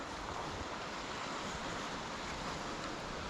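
Continuous churning rush of the River Wansbeck turning back on itself, broadband and steady like surf breaking, close by with no voices.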